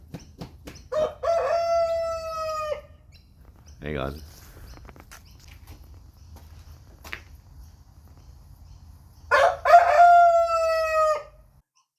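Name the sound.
rooster crowing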